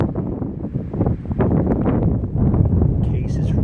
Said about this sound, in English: Wind's really bad.